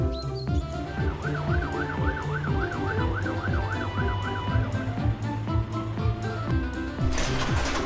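A loud wailing siren cycles rapidly up and down, joined by a rhythmic beeping pattern and a blaring horn, close and continuous.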